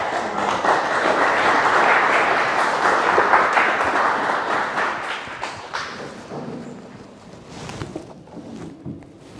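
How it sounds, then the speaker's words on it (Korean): A large audience at a breakfast lecture claps loudly and steadily to welcome a speaker, then the applause gradually thins and fades out toward the end. "원광호 원장님을 큰 박수로 맞이해 습니다"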